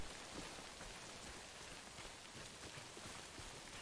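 Steady timefall rain in the video game Death Stranding hisses continuously, a dense, even wash of falling drops heard quietly with no other sounds.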